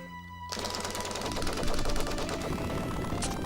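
A rapid-fire attack in Shinobi III: Return of the Ninja Master kicks in abruptly and chatters as a steady, fast machine-gun-like stream of game shots over background music.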